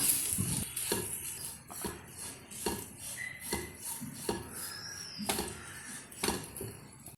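Spoon scraping and clinking in a pan while turmeric, chili powder and grated coconut are stirred into green gram thoran, with repeated metallic taps and scrapes at a steady, close rhythm and no talking.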